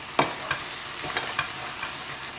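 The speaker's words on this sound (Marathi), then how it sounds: "कॅश्यू नट्स आनी आमी आतां परतून मिक्स करुया" Cashew nuts being stirred into butter chicken in a pan, giving about half a dozen distinct scraping strokes at an uneven pace over a soft, steady sizzle, close and moderately loud, with no voices.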